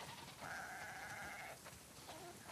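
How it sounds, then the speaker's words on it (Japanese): A single sheep lets out a drawn-out, wavering bleat on a farm in the video game The Last of Us Part II. It is faint against a constant background hiss, and a couple of fainter animal sounds follow. "羊がたくさん。"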